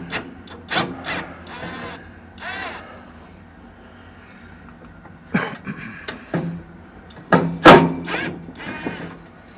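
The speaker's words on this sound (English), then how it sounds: "let's get them screws out of there" Quarter-inch head screws are backed out of a natural gas furnace being converted to LP, with short bursts of metallic scraping and rasping from the driver separated by quiet pauses, close by.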